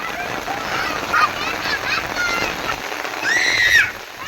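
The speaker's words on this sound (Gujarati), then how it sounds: "તો વરસાદ આવી ગયો છે" Steady rain falls on surfaces outdoors as children play in it, a continuous hiss throughout with a brief whistle-like tone near the end; faint voices are mixed in.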